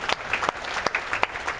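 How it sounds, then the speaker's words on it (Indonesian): An audience at a seminar claps together, dense close applause with scattered sharper individual claps throughout. "Dan tepuk tangan dulu buat Anda semuanya"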